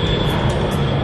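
Aircraft taxi and takeoff noise at an airport: a loud, continuous, broadband engine roar, close and unbroken throughout.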